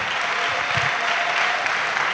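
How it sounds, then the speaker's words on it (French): An audience at a church pastoral-academy testimony breaks into applause and acclamation, a dense, continuous burst of clapping and voices that fills the room evenly from start to finish. "Acclamation."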